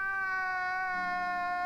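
A cat lets out one sustained, drawn-out meow with a steady, tonal quality that holds for a moment.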